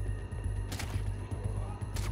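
Gunshots from Call of Duty: Modern Warfare in a night mission, a few quiet, sharp cracks spaced roughly half a second apart over a low, steady background hum.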